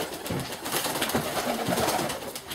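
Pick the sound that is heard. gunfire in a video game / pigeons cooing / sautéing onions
pigeons cooing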